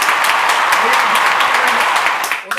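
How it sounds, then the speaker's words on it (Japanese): Applause sound effect, layered twice over itself, plays as dense, bright clapping at a loud, even level before cutting off abruptly near the end. "音から拍手の音が、ダブルで回っておりますけども"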